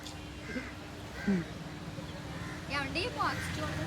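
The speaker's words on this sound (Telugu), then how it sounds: "అదో పిట్టలు గూళ్ళు ఇంటికి వెళ్ళిపోతున్నాయి పిట్టలు" Crows caw at dusk, a few harsh calls rising over steady background noise while people talk nearby.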